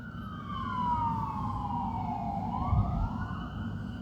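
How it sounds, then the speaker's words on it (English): Wailing sirens sweep up and down at a distance over low city traffic rumble in downtown Milwaukee, several overlapping tones, no talking. "Sirens downtown Milwaukee."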